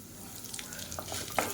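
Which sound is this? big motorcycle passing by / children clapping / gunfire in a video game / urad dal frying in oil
urad dal frying in oil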